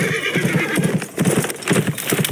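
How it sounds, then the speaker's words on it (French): An injured horse in a French-language audio game set at the gate of the kingdom of Torque whinnies loudly and close while hooves clip-clop in a rapid, uneven rhythm. "Ce cheval est blessé, père."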